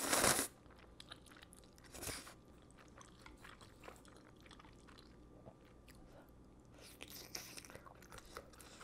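Crunchy bites and chewing of spicy Carbo Fire instant noodles with Korean sausages, close to the mic, with a sharp crunch at the start, another around two seconds, then softer chewing and a cluster of louder bites near the end.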